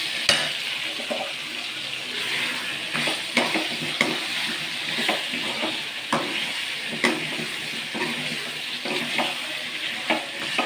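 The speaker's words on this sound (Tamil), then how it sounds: "எண்ணெயிலே காய்கறிகளை வதக்க ஆரம்பிச்சிடுவோம்" Chopped vegetables and broad beans sauté in hot oil, with a continuous close sizzle and regular scraping stirs of a spatula against the pan, plus a few sharper knocks.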